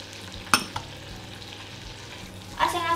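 Onion sautés in melted butter with a low, soft sizzle, broken by a spatula clink near the start and a short scraping stir toward the end, close and without talk.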